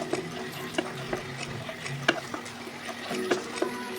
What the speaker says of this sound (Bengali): টমেটোটা ভাজা হয়ে গেলেই বাটা মশলাটা দিয়ে দেবো, দিয়ে ভালো করে কষিয়ে দেবো